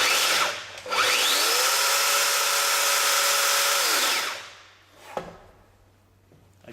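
A MAK TPC 165 panel cutter is switched on after maintenance with its housing closed. It gives a brief start burst, then spins up to a loud, steady whine for about three seconds and winds down, followed by a short clunk.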